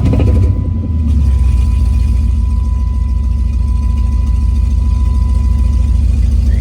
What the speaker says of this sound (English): When the car crank up, that's always a plus.